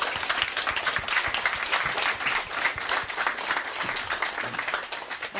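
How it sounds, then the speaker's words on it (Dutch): A live audience at a Dutch stage talk show breaks into sustained applause, a dense, full wash of many hands clapping that holds steady and starts to taper off near the end, with no talk over it. "Applaus."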